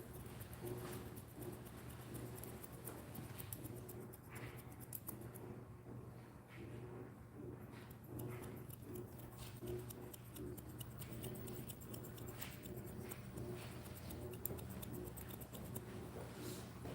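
Scissors snip through hair in quick, soft, repeated clicks during a scissor-over-comb haircut, faint and close against a quiet low hum.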